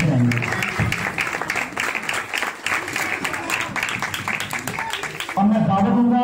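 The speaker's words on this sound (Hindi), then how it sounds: "इनके लिए जोरदार तालियां हम सब बजाएंगे" A large audience at an outdoor gospel preaching event in Pakistan gives loud, dense, sustained applause, which fades near the end as a voice begins speaking.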